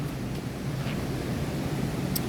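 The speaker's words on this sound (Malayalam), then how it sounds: "നിങ്ങൾക്ക് വെള്ളച്ചാട്ടത്തിന് ശബ്ദം കേൾക്കുന്നുണ്ടോ?" A waterfall near a deep riverside bathing spot gives a steady, unbroken broadband rush of falling water that fills the whole stretch at an even level, with no voices.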